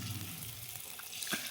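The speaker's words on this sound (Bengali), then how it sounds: "সবগুলো একে একে তেলের উপর ছেড়ে দেবো।" Cabbage kofta balls sizzle in a shallow layer of oil for a cabbage kofta curry, a soft steady frying hiss with faint watery crackle and a small clink near the end.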